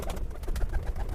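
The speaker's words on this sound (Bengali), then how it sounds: "হ্যাঁ, এটা কাশুরি কবুতর।" Kasuri teddy pigeons coo close by, a brief run of low, throaty rolling coos.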